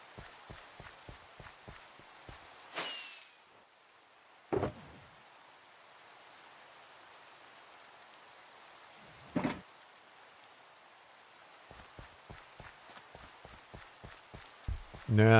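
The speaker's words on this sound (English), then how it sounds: "Nah, no one misses the rain." Steady rain in a video game hisses evenly throughout, with soft rhythmic footstep-like ticks and a few brief louder bursts scattered through it; no one talks.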